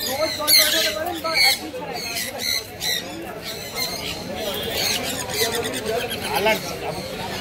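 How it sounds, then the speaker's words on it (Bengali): Imported exotic pet birds at a bird and pigeon market give repeated squawks and shrill calls, with people talking nearby throughout. "এক্সোটিক বার্ডের কালেকশনগুলো দেখুন, সব এগুলো কিন্তু বাইরে থেকে ইম্পোর্ট করা বিদেশি পাখি।"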